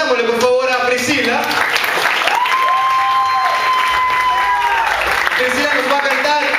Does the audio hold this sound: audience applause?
yes